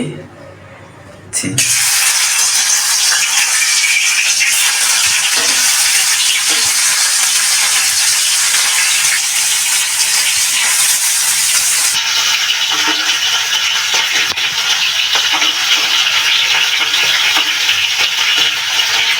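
Turmeric-coated hilsa fish frying in hot oil: after a quiet second, a loud, dense sizzle bursts in and holds steady, close and continuous to the end.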